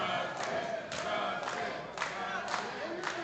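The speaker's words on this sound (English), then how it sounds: "you can hear the crowd getting behind the Wind Dragon" Crowd noise at a New Texas Pro Wrestling event, a steady roar of cheering with rhythmic swells and chanting-like pulses roughly every half second, loud and continuous with no clear talk over it.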